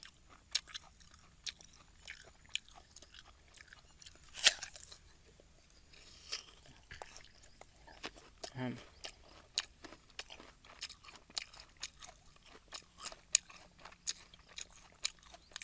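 Someone eats a red-fleshed guava up close, with quiet, intermittent crunchy bites and soft chewing scattered in an irregular rhythm against near silence.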